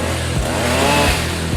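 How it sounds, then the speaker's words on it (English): A hedge trimmer runs steadily outdoors in the Smokies with a loud, continuous buzzing engine drone held close for a short stretch. "He's got his work cut out for him with that hedge trimmer."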